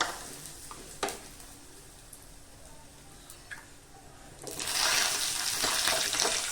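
Dried fenugreek leaves (kasuri methi) dropped into hot mustard oil in a kadai: a quiet kitchen with a few small clicks gives way to a sudden loud, bright, crackling sizzle that holds to the end.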